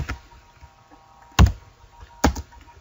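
Computer keyboard typing code: two sharp, close keystroke clacks about a second apart, over a quiet room hiss.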